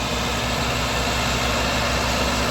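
A Farmtrac tractor engine idles at close range, a loud, unbroken diesel drone with a steady low rumble and no talk over it.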